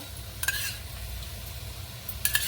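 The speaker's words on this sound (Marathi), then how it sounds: "आता मी याच्यामध्ये ना पण अजून साजूक तूप टाकणार आहे" Carrot halwa cooks quietly in a pan with ghee being stirred in, giving a soft low simmer broken by two brief scraping strokes of a spoon against the pan.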